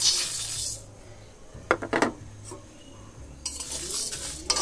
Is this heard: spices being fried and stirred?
yes